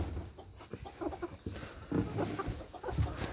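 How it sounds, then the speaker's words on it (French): A Pekin rooster and hen cluck softly nearby in short, irregular bursts against a quiet farmyard background. "Là, on a le coq Pékin et sa poule."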